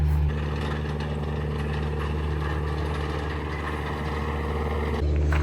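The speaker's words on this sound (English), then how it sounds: "They're coming back with the big tractor right now" Big tractor driving in at an excavation site for a greenhouse foundation, a steady low diesel drone with mechanical clanking, continuous and fairly close, with no talk.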